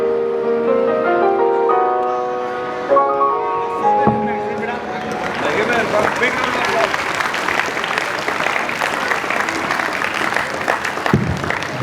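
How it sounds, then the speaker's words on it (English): A school Independence Day crowd breaks into loud, sustained applause that follows a stretch of music, the clapping dense and steady for several seconds. "Let's welcome this special moment with a hearty applause."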